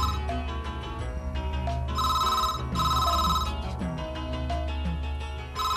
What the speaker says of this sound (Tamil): போன் எடுக்க மாட்டியா?